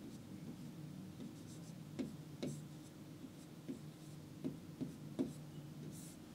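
Pen or chalk writing a single word by hand during a classroom-style lesson, heard as a few soft scratchy strokes and taps spread irregularly over a steady low room hum.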